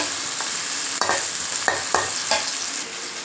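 Onions sautéing in a pan for a dried seer fish and small potato curry, a steady sizzle and hiss with several sharp stirring scrapes at irregular intervals, close and fairly loud, with no voices.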